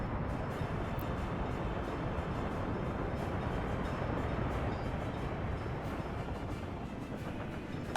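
A train in the video game Workers & Resources: Soviet Republic gives a continuous low rumbling rail noise, steady and moderately quiet, with faint clacks over the top.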